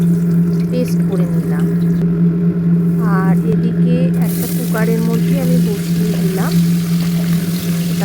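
Whole spices, bay leaf and dry red chili sizzle in hot oil for a Bengali dhokar dalna, a steady loud frying hiss under a low electrical hum, with a voice talking over it.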